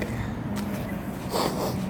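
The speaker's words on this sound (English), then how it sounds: "Oh, still got these bloody sniffles." Two short nasal sniffs, one early and one near the end, over a steady low background hum.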